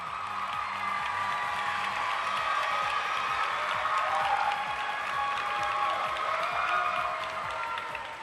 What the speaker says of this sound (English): Send them off with a big round of applause.